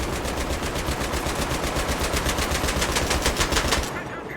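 Sustained automatic gunfire in the video game Battlefield 3, a fast, loud, evenly spaced stream of shots that cuts off just before the end.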